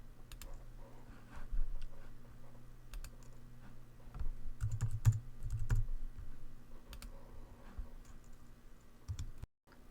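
Typing on a computer keyboard while working in InDesign, with quiet, close key clicks arriving in irregular bursts and a few louder taps near the middle.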